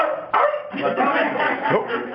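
A dog barks and yips close by, a few sharp excited barks in quick succession.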